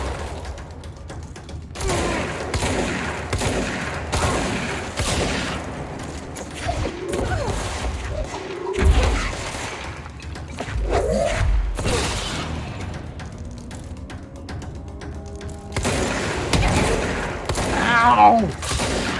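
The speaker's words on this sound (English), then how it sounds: "Stop shooting rockets at me." Rockets and gunfire from enemies in the video game Control burst out in repeated loud blasts and crashes, with mechanical clatter between them and a voice talking over the combat.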